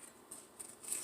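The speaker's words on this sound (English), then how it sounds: "So I cut all the onion down now, and it'll grow back." Scissors snip through green onion stalks close by, a few quick soft cuts in a quiet kitchen, with no talking.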